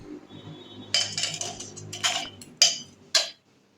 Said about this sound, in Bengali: এবার করলাটার গাটা ছুরি দিয়ে এইভাবে ছেঁচে নেব